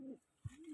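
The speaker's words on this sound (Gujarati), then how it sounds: "એટલા કબૂતર ઉતરી ગયા હે" Pigeons coo softly in a short burst, two low throaty calls with a brief gap between, fairly close and faint with no talk.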